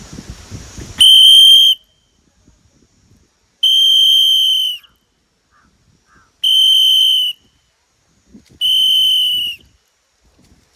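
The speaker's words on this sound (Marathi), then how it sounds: "शिट्टी गावली लय जोरात. मला असं वाटतं लय जोरात वाजते." A loud whistle is blown four times in long, steady blasts separated by quiet gaps, piercing and close, with faint background rustling between the blasts.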